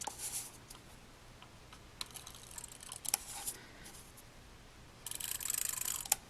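Tape runner laying double-sided tape onto paper, a faint clicking rasp in short bursts with a louder rolling rattle near the end.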